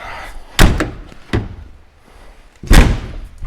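Three solid slams ring out nearby, a car door being shut firmly, with a longer pause before the last, heaviest one.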